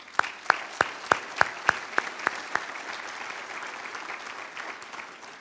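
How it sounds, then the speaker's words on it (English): Audience applause at an annual dinner meeting. Several sharp, evenly spaced loud claps ring out near the microphone over a softer bed of crowd clapping that carries on after they stop. "ask you to give yourselves a round of applause"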